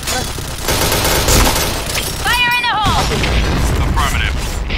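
Grenade blast in a shooter video game: a loud burst with crackling debris, followed by sharp electronic warbling tones, all under continuous talk from players.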